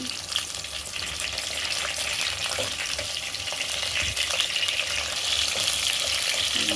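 Stuffed eggplants frying in a pan for a gutti vankaya masala curry, giving a steady, dense sizzle with occasional stirring scrapes, close and even throughout without talk.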